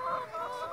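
Free-range chickens in a homemade mobile coop cluck in a steady, close-up chatter, with overlapping calls filling the short stretch without any talk.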